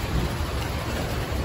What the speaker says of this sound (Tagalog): Patuloy ang pag-ulan.